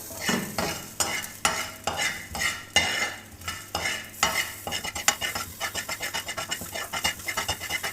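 Black peppercorns and dried coriander dry-roasting in a pan, stirred in a steady rhythm of close scraping strokes with a light rattle and faint sizzle, without speech.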